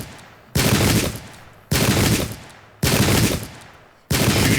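Musket volleys crack out in a pike-and-shot battle game, four loud broadband blasts roughly a second apart, each trailing off in a short decaying rumble before the next rings out.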